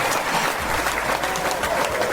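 A studio audience claps steadily at a talk-show interview, with dense, even applause filling the whole stretch and no voices over it.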